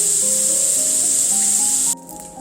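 Bacon strips crisping in a hot skillet give off a steady, loud hiss that holds for about two seconds and then drops away sharply to a quieter sizzle.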